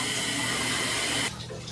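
Tap water pours steadily and loudly into a bathtub, a continuous rushing splash that softens and thins slightly near the end.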